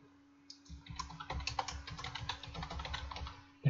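Typing on a computer keyboard while entering a folder name in testing software, a steady rapid run of close key clicks after a brief pause, with a continuous low electrical hum underneath.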